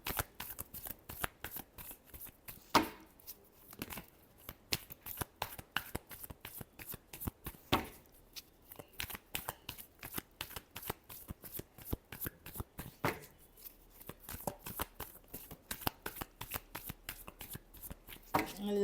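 Tarot cards are shuffled repeatedly by hand, rapid crisp riffling bursts and soft taps in an uneven rhythm throughout, fairly quiet and close, with faint talking in places.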